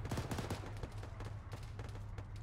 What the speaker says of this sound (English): They're shooting at us, so no.